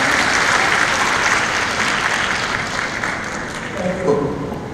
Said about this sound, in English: Please give them another round of applause for Mr.